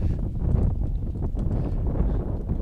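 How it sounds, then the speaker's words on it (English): Strong gusty wind buffets a microphone outdoors at an Australian rules football match in the Boston area, a loud low rumbling roar that persists throughout with no clear speech. "it's wicked windy here."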